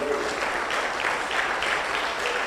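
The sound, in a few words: applause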